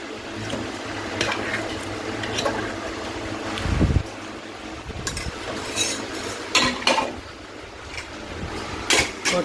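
Tahri, salted rice from Kanpur, served from a pot onto a plate with a spoon, heard as scattered clinks and scrapes of metal against metal, with a low rumbling knock midway, all in a quiet room.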